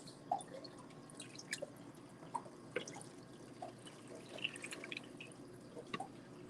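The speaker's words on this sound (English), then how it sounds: "So we need to get some water in here. A little jug right here." Water poured from a small jug into an aquarium, heard as faint, irregular drips and splashes over a low background hiss.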